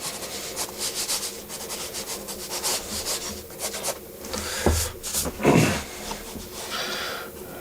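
A pencil sketches warm-up characters on paper with steady, close scratching and rubbing strokes. The strokes come in quick repeated bursts and are now and then broken by sharper, longer sweeps.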